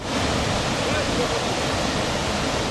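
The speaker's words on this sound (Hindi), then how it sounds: "उस नाले में तेज रफ्तार में पानी बहता नजर आया" A swollen drain in Himachal during a cloudburst flash flood, water rushing fast in a dense, constant roar that stays loud and unbroken throughout.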